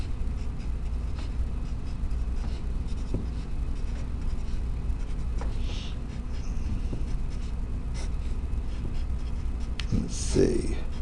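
A pen scratching steadily on paper while numbers are filled into a table, faint continuous writing strokes under a low background hum, with a person speaking over it.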